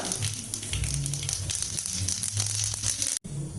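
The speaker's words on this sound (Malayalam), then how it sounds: "എണ്ണ ചൂടായിട്ടുണ്ട്. ഇതിലേക്ക് കുറച്ച് കടുക് ഇട്ട് കൊടുക്കാം." Mustard seeds crackling and sizzling in hot oil in a pan while a crab roast is being cooked, a dense steady spitting sizzle that holds for a few seconds before a brief cut.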